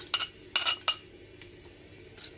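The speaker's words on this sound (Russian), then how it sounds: "перекладываем в холодную кастрюлю наши вот эти вот зерна кукурузы" Dry popcorn kernels poured into a cold, thick-bottomed pot on a stove, giving three short bursts of bright rattling clatter and a faint later trickle, close and fairly quiet, with no voices.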